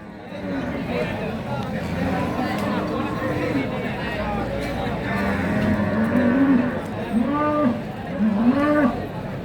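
Several cows moo repeatedly at a cattle market in Tuban, some close and loud, amid a busy background of crowd chatter and people talking.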